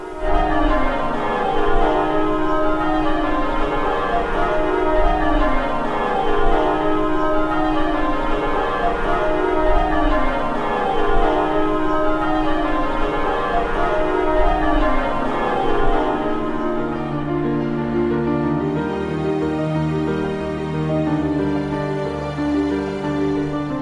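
Church tower bells ring in steady rounds at the Church of the Transfiguration on Cape Cod, overlapping peals filling the air with rich sustained tones, loud and continuous with no voices.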